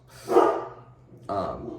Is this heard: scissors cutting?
no